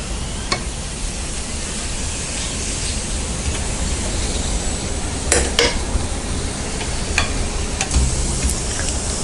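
Palm jaggery rotti fries in ghee on a pan with a steady, close sizzle, broken by a few light utensil clicks and scrapes. No one speaks.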